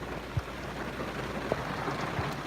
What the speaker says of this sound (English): I'll show you some rain again.